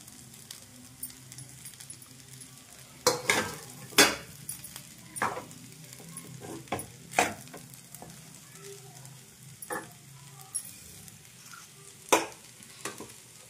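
Eggs frying in a pan for aavakaya fried rice, a soft continuous sizzle broken by repeated clacks of a spatula against the pan at irregular intervals.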